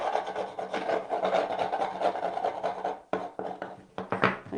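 Pasta dough for chestnut lasagne is scraped up from a work surface: a continuous rasping, rubbing scrape, close and fairly loud, which pauses briefly and then returns in shorter strokes.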